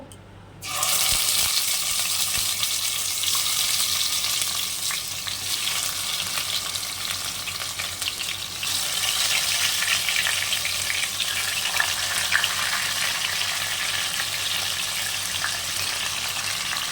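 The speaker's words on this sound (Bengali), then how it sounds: "কড়াতে সর্ষের তেল দিয়েছি মাছ ভাজার জন্য" Live rohu fish sizzles in hot mustard oil in a wok, a loud, steady, close frying hiss that carries on without a break and with no voices.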